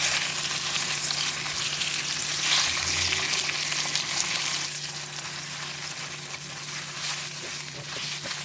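Food sears and sizzles in a wok over medium heat during home cooking of Japanese dishes, a steady, dense frying hiss that runs throughout, loud and close, with no talking.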